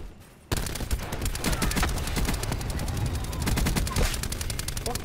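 Rapid automatic gunfire in Black Ops 4 multiplayer, with dense, continuous bursts of shots that start abruptly and keep going loud to the end, and a faint voice now and then underneath.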